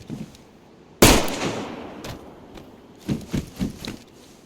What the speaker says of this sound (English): there's a dude around here shooting people